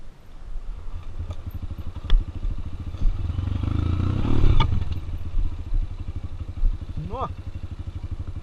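A Tornado 293 cc trail motorcycle being bump-started in second gear by releasing the clutch, its engine firing into a rapid, throbbing idle up close, with clattering knocks and a brief voice near the end.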